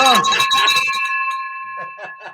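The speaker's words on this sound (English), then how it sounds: "Give us the gong for the last time, Brad." A gong is struck once, giving a bright metallic ring whose shimmering overtones hang and slowly fade, followed by a voice speaking softly as the tone dies away.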